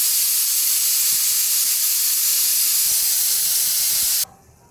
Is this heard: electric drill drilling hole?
no